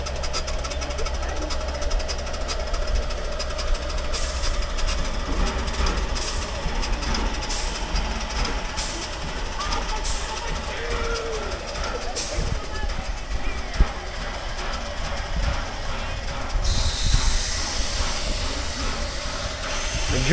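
Steam locomotive 611 sits running with a constant loud hiss and low mechanical throb, steady throughout with a brief sharper burst of steam late on; faint talk beneath.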